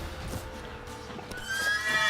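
Horse neighing with hoofbeats in The Witcher 3, a brief whinny rising over a steady game ambience, fairly close and moderately loud.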